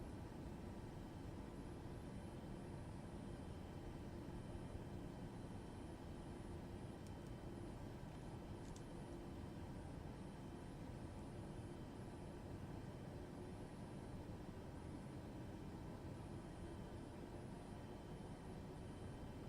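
An airplane taxiing on the runway: a steady, unchanging engine drone heard from inside, loud and constant throughout, with no talk over it.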